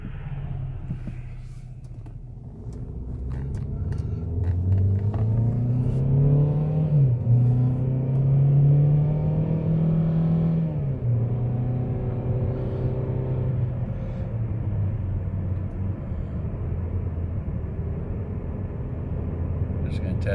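2018 Chevrolet Malibu with a throttle position sensor fault on a road test drive, engine drone rising as it accelerates then settling into a steady cruise with tire and road noise, speech faint in the cabin.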